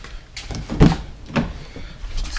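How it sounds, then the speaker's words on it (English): The fuel door and gas cap on a Lexus LS430 are opened, giving a few short close clicks and knocks in quick succession against a quiet background. "Next up is remove the left rear wheel, and of course open that gas cap."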